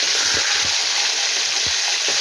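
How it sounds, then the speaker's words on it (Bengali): Vaghor fish pieces fry in hot oil, a loud, constant close sizzle with a few soft low bumps from the pan. "এবার আমি একটা একটা করে মাছটা দিই। আমি মাছটা ভেজে নিই বন্ধুরা,"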